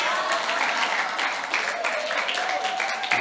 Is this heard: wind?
no